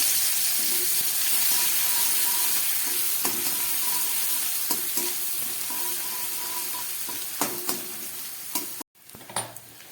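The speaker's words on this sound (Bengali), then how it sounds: "পেঁয়াজটা লাল করে ভাজা হয়ে গেছে" Chopped onion fries in a pan for a Bengali snail curry: a close, continuous sizzle with repeated scrapes of a stirring spatula, easing slightly toward the end.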